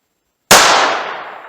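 Single sharp gunshot from a .357 Magnum revolver firing a 200 grain .38 Special hand load, a loud close crack after half a second of silence, followed by a fading ring.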